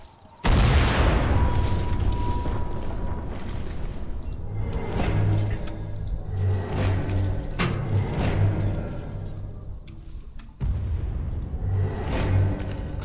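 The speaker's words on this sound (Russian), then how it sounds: "Кажется, они стреляют из этих больших орудий." Heavy artillery guns in Sniper Elite 4 fire with deep booming blasts that roll into long rumbling echoes, with a second loud boom near the end over a constant low drone.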